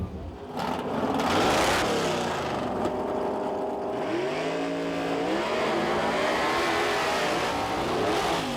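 A drag racing car's powerful engine roars and revs continuously, rising in pitch as it accelerates, loud and close, with no voices.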